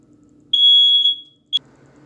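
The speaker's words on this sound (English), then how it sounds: "as I was trying to attend to the fire alarm" A smoke alarm sounds loudly indoors: one long, shrill, piercing beep lasting about half a second, then a short sharp chirp moments later, in an otherwise quiet room.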